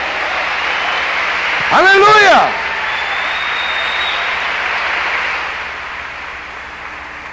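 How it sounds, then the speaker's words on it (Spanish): A church congregation claps through a sermon pause, a steady wash of applause with a voice briefly calling out over it before the clapping thins toward the end. "un aplauso"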